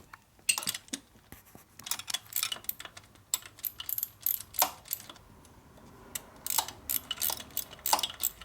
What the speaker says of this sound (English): A little modified ratchet here looks pretty good.